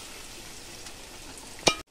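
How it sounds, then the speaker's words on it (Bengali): Palm fruit fritters (taler bora) frying in hot oil, a steady close sizzle throughout, broken near the end by a single sharp clink of a utensil. "সব উল্টে পাল্টে ভেজে নিচ্ছি।"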